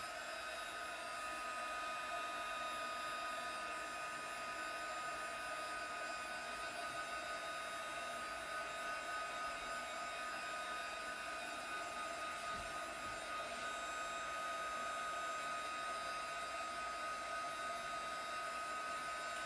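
A hair dryer blows on chalk ink over a tea towel, a steady, close, unbroken whooshing hum with no change across the whole stretch and no voices.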